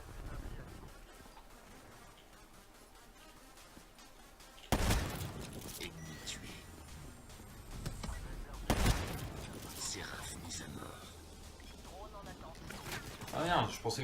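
Sniper rifle fire from the SVG-100 in the shooter game Black Ops 3: two sharp, loud shots about four seconds apart, each ringing out over a busy bed of game ambience.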